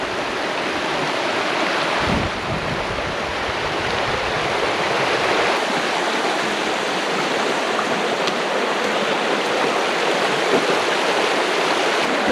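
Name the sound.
Frog Bayou stream flowing, Ozark Highlands Trail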